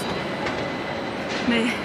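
An old tram passes along a street in Gothenburg with a continuous rolling rumble and a short wheel squeal near the end, fairly close.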